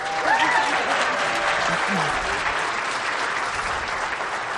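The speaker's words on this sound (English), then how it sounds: "Yes, round of applause, please." An audience at Seeking Treasure Con 2026 applauds Jon Collins-Black and his wife Kimberly at a Q&A, a steady wash of many hands clapping throughout, with faint voices mixed in underneath.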